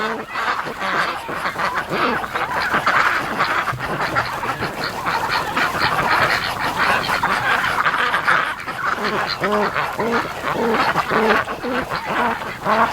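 A male breeding duck calls out to females among a crowded flock, his repeated honking calls standing out near and loud over a constant background of quacking and fowl chatter.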